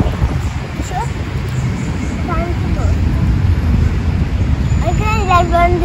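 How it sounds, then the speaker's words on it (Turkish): Steady wind buffeting the microphone outdoors at a cold playground, a low continuous rumble with voices and a few brief whistling tones over it. "Çok rüzgar var."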